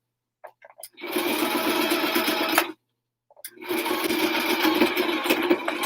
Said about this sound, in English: that sounds like my bobbin. No, no! Dang it! I kept going hoping it wasn't, but we're having bobbin problems apparently.